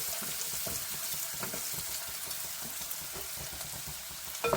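Chopped onion frying in a pan for South Indian green peas upma: continuous close sizzle and crackle with occasional stirring scrapes, steady throughout and free of talk.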